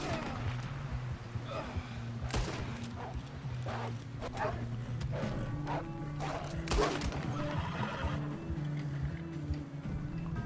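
In Red Dead Redemption 2, a horse's hooves clip-clop in a rhythmic gallop alongside sharp game impacts and steady background tones, while people talk over it.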